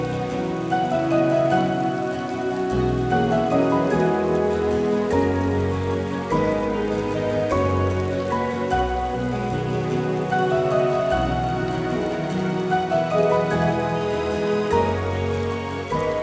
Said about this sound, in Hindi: बारिश में क्यों भीग रहे हो?